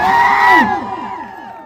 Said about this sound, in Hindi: और एक जोरदार तालियां होनी चाहिए इस प्रेजेंटेशन के लिए।